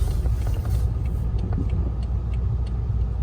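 BMW xDrive car rolling through a snowy parking lot with turns and a hill, a steady low engine and road rumble heard from inside the cabin throughout, with faint scattered clicks above it.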